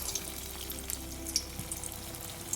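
Red lentil fritters frying in hot mustard oil, a soft, steady sizzle with scattered faint crackles and pops, heard fairly quietly without talk.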